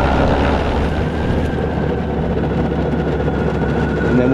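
A Toro PowerMax e26 electric snow blower runs nearby with a loud, steady motor hum and churning roar that holds constant throughout.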